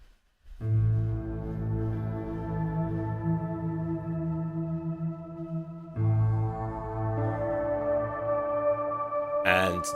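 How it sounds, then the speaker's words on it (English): Soundiron Harmonic Tides piano with shimmer and reverb, lush sustained chords washing out into a long spacious tail, a second chord entering around six seconds and a brief bright noise near the end. "Then I switched on the reverb."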